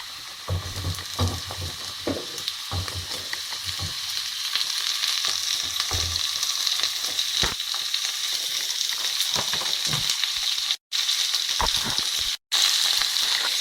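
Capsicums and onions fry in a hot pan with a loud, continuous sizzle, broken by scattered pops and stirring scrapes and two brief dropouts near the end.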